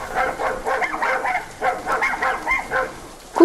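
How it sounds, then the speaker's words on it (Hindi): Several dogs bark and yip in quick bursts at night outside a window, fairly close and insistent, with short pauses between volleys. "कुत्तों को आज क्या हो गया है? इतना क्यों भौंक रहे हैं?"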